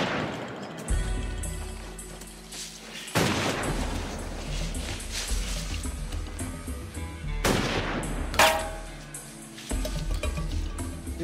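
Rifle gunfire from a TV drama scene: several loud, sharp shots and bursts crack over about eleven seconds, each with a booming echoing tail, with no talk during the shooting.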